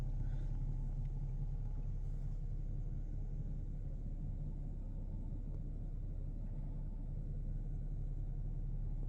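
A Dodge Challenger with a 3.6 L 305 hp engine idles at low speed while being parked, giving a steady, close, continuous low rumble with no clear revving throughout.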